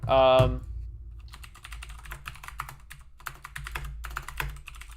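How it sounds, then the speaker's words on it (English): Close computer keyboard typing, a rapid irregular patter of key clicks that follows a brief burst of loud voice at the start and continues steadily to the end. "let me type it in chat here."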